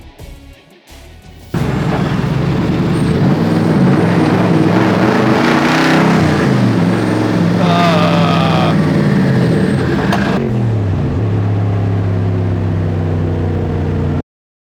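A 1986 Nissan Z31 wide-body car runs close by with a loud, sustained engine drone that rises and falls in pitch as it drives, cutting off abruptly at the end.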